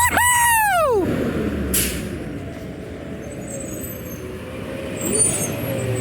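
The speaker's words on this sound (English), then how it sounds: "We got a close to 6 hour late garbage truck." A recycling garbage truck out collecting gives a sharp, loud air-brake squeal and hiss at once, then its engine runs on with a steady low rumble.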